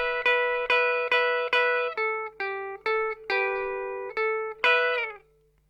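Rockabilly guitar phrase, a repeated opening lick with a slight change: a run of sharply picked single notes and short double stops in an even bouncing rhythm, close and clear, ending with a held note.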